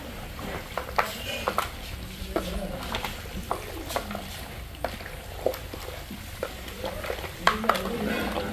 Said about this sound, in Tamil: இந்த மஞ்சள் தூள் எல்லாம் போட்டு நல்லா மிக்ஸ் பண்ணுவோம்